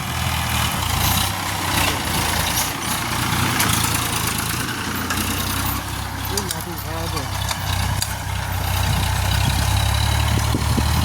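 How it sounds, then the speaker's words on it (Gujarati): A farm tractor engine runs steadily on a field during tilling, a loud continuous low rumble and idle throughout, with people talking over it. "જો જો છે ટ્રેક્ટર આપણું સીલવાનું ચાલુ છે"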